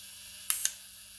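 An Olympus Pen EE-D film camera fires its shutter, giving two quick close, crisp mechanical clicks about a sixth of a second apart against a quiet background.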